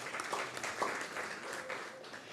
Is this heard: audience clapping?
yes